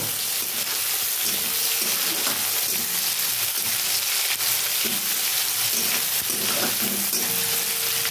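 Steady, loud sizzling of tomatoes frying in oil for arhar dal, a constant crackling hiss close by with light stirring, no voices.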